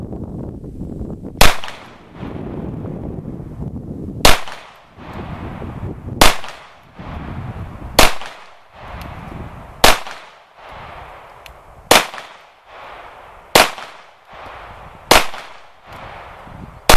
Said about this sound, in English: I'm going to be putting about 10 rounds through the CZ SP-01 pistol.